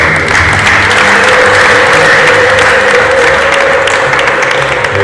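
Wedding guests break into loud, sustained applause, a dense wash of clapping hands close by that carries on without pause from start to finish.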